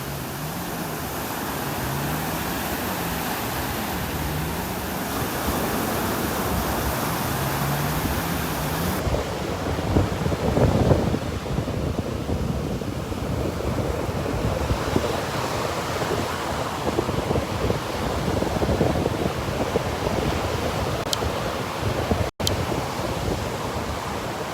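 Ocean surf rolls and breaks on a beach in North Naples, Florida, a steady wash of waves mixed with wind buffeting the microphone, with a faint engine hum in the first few seconds.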